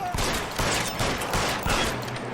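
Burst of gunfire in the video game LA Noire, a dense, loud fusillade of overlapping shots filling the whole moment with little pause.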